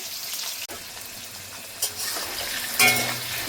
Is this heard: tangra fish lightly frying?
yes